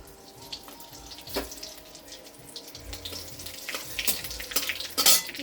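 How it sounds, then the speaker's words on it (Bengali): Cardamom, cloves, cinnamon and bay leaf dropped into hot oil for a vegetarian dish: a soft, fairly faint crackling hiss with scattered light clatters, rising a little toward the end. "তেল গরম হয়ে গেছে, তেলের মধ্যে এবার এই এলাচ, লবঙ্গ, দারচিনি আর তেজপাতা সব একসঙ্গে দেবো।"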